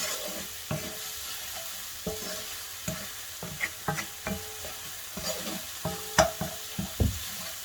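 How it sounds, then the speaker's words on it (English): A spoon stirring seasoned chicken filling in a frying pan, steady sizzling underneath with repeated scraping and clinking strokes at an irregular pace, close up and without talking. "we're going to be adding a desired amount of salt"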